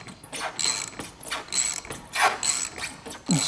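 A ratchet wrench works loose the top nut of a shock absorber on a Vauxhall Corsa C or Combo van, giving repeated close clicking strokes in short bursts with pauses between them.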